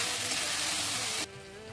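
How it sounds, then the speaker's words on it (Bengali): Small cubes of potato with a bay leaf and whole cumin seeds frying in hot oil give a steady, close hiss that suddenly drops to a quieter simmer near the end. "তারপর সেই তেলেই একটা তেজপাতা আর কিছু গোটা জিরে দিয়ে এরকম ছোটো ছোটো কিউব করে রাখা আলুও দিয়ে ভেজে নিতে হবে।"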